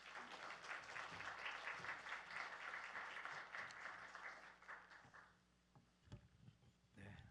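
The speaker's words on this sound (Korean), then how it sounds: "우리 선교사님 오실 때 환영의 박수 한번 하도록 하겠습니다" Congregation at a Wednesday church service in a Korean church gives a welcoming round of applause for a missionary, steady broadband clapping for about five seconds that then thins into scattered claps and fades.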